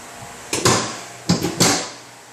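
A 2015 Honda Civic hood being dropped shut during front collision repair work gives two pairs of sharp, resonant slams about a second apart, close and loud in a quiet shop.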